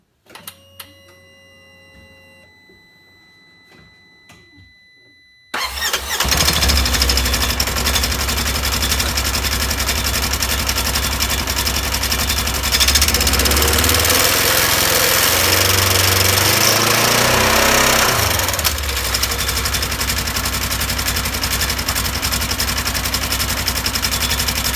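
A Polaris RZR 900 XP engine on a 2018 machine fitted with Duraclutch clutches starts up and runs loud and steady with the cover off, a rough mechanical roar that dips briefly near the end, after a few seconds of quiet clicking.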